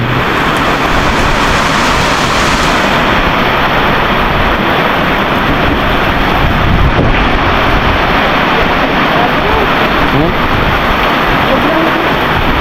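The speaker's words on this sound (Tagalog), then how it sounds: "Medyo lumalakas na yung hangin" Loud, steady roar of strong typhoon wind blowing continuously, dense and unbroken throughout with no pauses.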